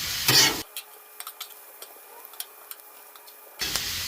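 Steak fajitas and peppers being stirred on a hot Blackstone griddle: scattered light scraping taps and soft sizzle, with louder bursts of spatula scraping at the start and end.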